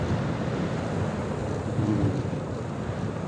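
Mountain wind on Devil's Mountain, Occidental Mindoro, gusting over the microphone, a low rumbling whoosh that holds steady for a few seconds with no speech.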